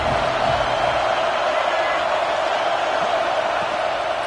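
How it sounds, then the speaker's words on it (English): A stadium crowd at a football game, a dense, steady roar of many voices, broad and constant without distinct peaks. "This crowd knows this defense needs them right now."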